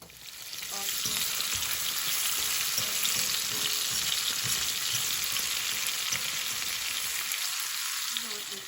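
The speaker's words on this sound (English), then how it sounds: "it's just simmering down" A pan of vegetable and tomato gravy with pepper, carrot, onion and garlic bubbles and sizzles on the stove, a loud, dense, continuous hiss up close that holds steady throughout, with no talking.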